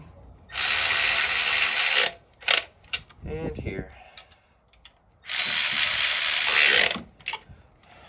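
A hand ratchet loosens 10mm nuts on a Toyota Highlander V6 engine, in two long bursts of rapid clicking separated by a few short clicks and a brief spoken remark.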